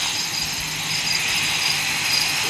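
Steady whirring helicopter rotor drone from the video game Granny 2, loud and continuous, with a broad engine hum throughout.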